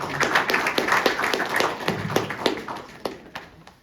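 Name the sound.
round of applause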